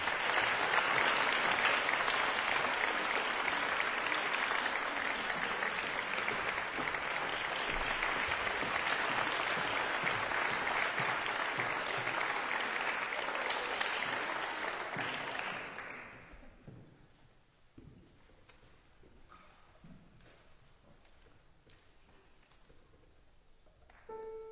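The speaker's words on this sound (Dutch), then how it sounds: "Ik heb een heel warm applaus." Warm applause from a competition finale audience greets the first candidate, a dense sustained clapping that runs for about fifteen seconds before quickly fading into quiet room sound with a few scattered claps.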